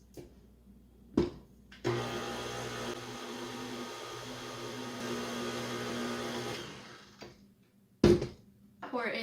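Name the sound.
electric mixer mixing cake-pop batter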